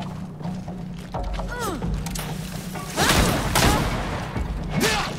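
A grenade blast in the video game Greedfall lands around the three-second mark as a loud, broad burst that lingers. Game music, shouts and clatter surround it, and a voice speaks briefly.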